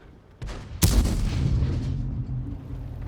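A Sherman Jumbo tank's derp gun fires in World of Tanks: a sharp, loud boom that rolls into a long low rumble, with a fainter thump just before it.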